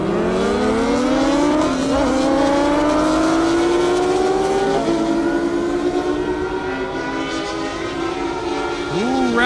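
Kawasaki H2 and ZX14R motorcycles race on a half-mile airstrip, engines wailing in long rising pitches that shift through gears, loud and continuous with faint crowd or commentary noise beneath.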